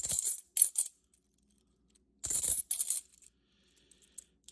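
A silver half dollar coin dropped and ringing, heard as two clusters of bright, high-pitched bounces and clinks with short settling taps after each, close and clear with no talk.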